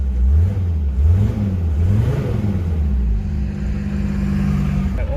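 Mercedes-Benz 300TD W123 wagon with the OM617 diesel engine rumbling and rising in a few quick throttle revs, close and steady, with no talking.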